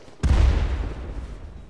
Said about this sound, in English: it looks cool with all those explosions here